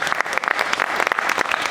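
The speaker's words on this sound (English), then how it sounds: "That's round of applause is well deserved." Audience applause at a conference panel, a dense, steady wash of many hands clapping together throughout, fairly loud and sustained with no talking over it.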